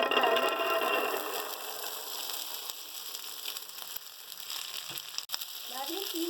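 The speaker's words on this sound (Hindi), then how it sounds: "बस अभी ये तेल गर्म हो जाए, फिर हम 3-4 मिनट अपने मटर फ्राई करेंगे" Peas frying in hot oil give a continuous close sizzle and crackle that eases off slightly midway, with a sharp clink near the end.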